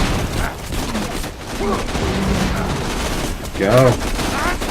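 Pistol shots from Borderlands 2 fire in a steady barrage under constant game noise, with a voice speaking briefly over the shooting.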